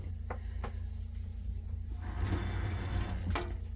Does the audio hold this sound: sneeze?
no